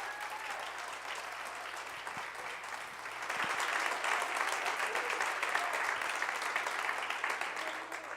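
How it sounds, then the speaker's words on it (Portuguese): A church congregation applauding, a steady patter of clapping that swells louder partway through and stays full, with a low hum underneath. "Se é para aplaudir, aplaude direito"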